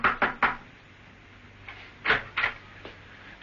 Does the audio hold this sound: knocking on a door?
yes